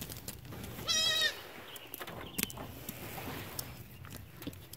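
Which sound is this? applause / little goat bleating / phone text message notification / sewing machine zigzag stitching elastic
little goat bleating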